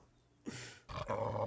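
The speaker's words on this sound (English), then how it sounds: "I swear they have a dog as well." A dog growls low in a scene from the 1986 film Ferris Bueller's Day Off, two rumbling bursts separated by a short gap, fairly quiet and with no talk over them.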